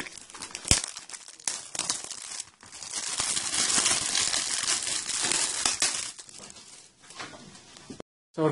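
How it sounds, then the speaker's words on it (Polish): 2003 Upper Deck Manchester United trading card packets are torn open and handled: crinkling foil, ripping and rustling in uneven bursts, with a sharp snap early on and a short pause near the end. "Otworzymy sobie 4 saszetki."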